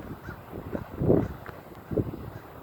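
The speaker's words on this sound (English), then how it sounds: "She is such an awesome crow." A pet crow calls with a few harsh caws, one stronger burst in the middle and another near the end, set against quiet outdoor background noise.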